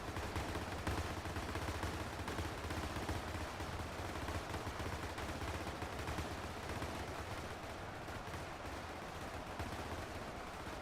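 Several MG42 machine guns firing nonstop in Ultimate Epic Battle Simulator 2, a dense, overlapping roar of automatic bursts that stays loud and unbroken throughout, with occasional heavier thumps mixed in.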